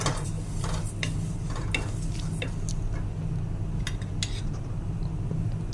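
Vermicelli roasts in a little oil in a pan: a low steady frying hiss with light clicks and scrapes of a ladle against the pan, close and continuous.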